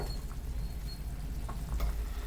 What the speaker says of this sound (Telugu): ఎల్లుల్లిపాయ కూడా కొట్టేసాను తాలింపు దినుసుల్లో